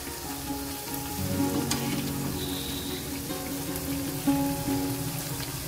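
Bread slices frying on a slow flame for shahi tukda, giving a steady soft sizzle and crackle with occasional brief louder pops and scrapes.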